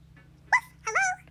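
Two short barks from a toy puppy in a pink hat, a quick yip followed by a longer whining bark, close and clear with no talk.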